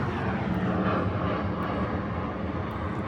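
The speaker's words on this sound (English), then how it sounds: "There's a plane flying over, hold on." A fixed-wing airplane passes over a garden, its broad, steady engine drone filling the air at close range, loud and even throughout with no talking.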